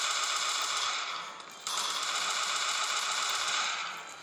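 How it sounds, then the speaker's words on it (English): Rapid automatic gunfire in the video game Counter Blox, a dense continuous rattle of shots with a brief dip partway through before resuming, loud and without talk. "Hey, missed a couple of shots."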